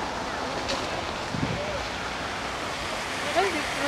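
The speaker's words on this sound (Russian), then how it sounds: "И фонтан включили." A city water fountain runs with a constant, broad rushing splash of water that fills the scene evenly from start to end, with faint outdoor background noise.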